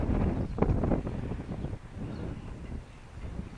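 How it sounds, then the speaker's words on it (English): Wind buffets the microphone outdoors in a steady low roar with gusty swells, close and loud throughout, during dowsing with an antenna rod. "that wind's fighting me"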